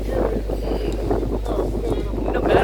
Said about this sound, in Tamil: காற்று காற்று காற்று தான்